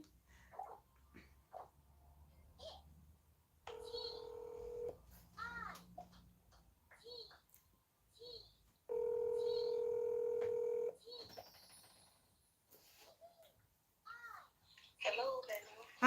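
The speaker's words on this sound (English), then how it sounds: "so I'm going to call that caller" Telephone keypad tones on a call-in broadcast, two clear bursts of dialing tones with softer beeps between them, under faint background voices and noise.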